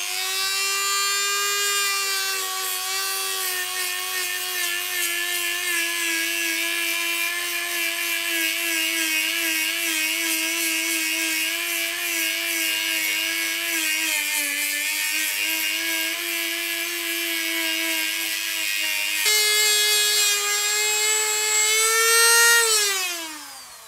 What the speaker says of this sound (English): I'm going to use my Dremel sander to